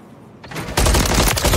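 Loud burst of rapid gunfire in a competitive Valorant-style tactical shooter match, starting with a quieter lead-in and then a dense, sustained volley of close shots filling the rest of the moment.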